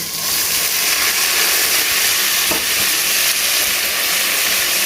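Chilies and onions fry in a pan with a steady, loud sizzle and hiss that holds evenly throughout, with only a brief stir or clatter partway and no talking.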